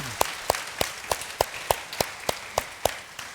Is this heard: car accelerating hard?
no